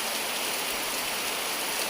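Steady rain falling outdoors in the Konkan countryside, a dense, even patter that fills the whole stretch at moderate loudness with no voices.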